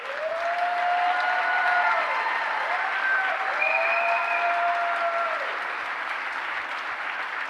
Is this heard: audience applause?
yes